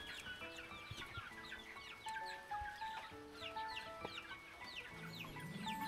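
Chicks peep and chirp in a busy cluster of high, rapid calls, with lower clucking from adult chickens mixed in, steady and moderately close throughout.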